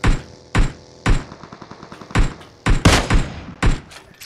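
PUBG gunfire crackles as a steady run of loud, evenly spaced single shots, roughly two per second, each with a short ringing tail, heard alone without talk.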